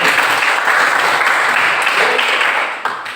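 A classroom of students applauds during a teaching session, dense close clapping from many hands at a loud, steady level that tapers off toward the end.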